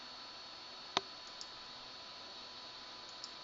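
A single sharp mouse click stands out against a faint steady hum, followed by two much softer ticks later on, with no talking.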